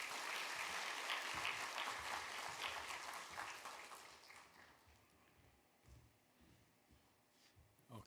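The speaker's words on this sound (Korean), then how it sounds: "박수로 환영하겠습니다" A church congregation claps to welcome a guest pastor at a Sunday service, the applause loud and full at first, then thinning and fading toward the end.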